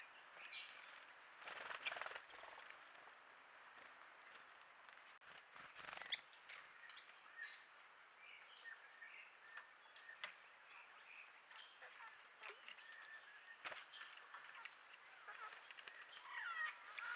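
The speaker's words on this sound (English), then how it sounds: "And a little group of pinstripe tit babblers." A small group of pin-striped tit-babblers calls at a dry, rocky pool, giving faint, scattered chirps and short notes at a distance over a quiet background.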